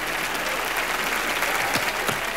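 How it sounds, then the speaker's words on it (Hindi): A studio audience at a comedy television show bursts into loud, sustained applause, a thick wash of clapping that holds steady throughout with no voices on top. "जोरदार तालियां दोनों के लिए।"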